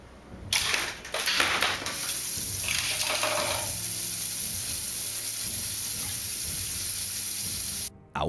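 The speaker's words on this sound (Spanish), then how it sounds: "la llave del grifo de la cocina se activa sola" A kitchen faucet turns on after a few knocks and clatters, then runs in a steady, loud rush of water that continues for several seconds before cutting briefly near the end.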